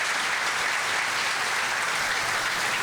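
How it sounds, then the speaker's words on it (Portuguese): Steady audience applause fills a spiritist forum talk session, dense and even, with no voices over it. "Salva de palmas para eles."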